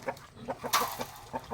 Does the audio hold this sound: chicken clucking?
yes